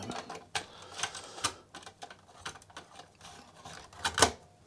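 Keys being pressed on a 1982 Sharp MZ-700 computer keyboard to type a command, a close run of separate clacky keystrokes in an uneven rhythm, ending in one louder press, with no talk.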